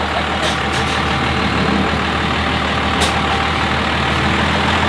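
A lifted truck's engine idles steadily at close range at a busy Daytona Beach gathering, a constant low rumble with a couple of brief hissing bursts.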